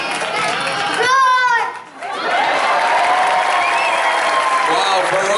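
A five-year-old boy imitates a lion roar, a short rough growling call over a loud crowd of clapping and chatter that keeps going after his roar.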